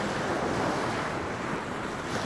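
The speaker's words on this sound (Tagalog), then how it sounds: "Dito sa gawing kanan, dito malakas yung alon sa malalim." Ocean waves wash continuously at the Kalanggaman Island sandbar in Leyte, a dense, even roar of surf mixed with wind buffeting the microphone, with no voices.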